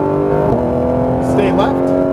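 A Porsche 991 GT3 RS engine pulls hard at full throttle on a track, its loud in-cabin howl rising in pitch across a quick upshift, with a voice speaking over it.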